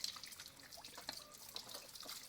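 Water is sprayed over a sheep being bathed, giving a quiet, continuous spatter with small splashes and drips throughout and no voices.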